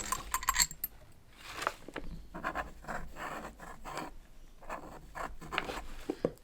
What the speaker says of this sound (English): we're going to test this calligraphy pen out